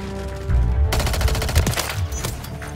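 Rapid automatic gunfire in the video game Modern Warfare 3, a dense fast rattle of shots starting just under a second in and continuing loud and close to the end.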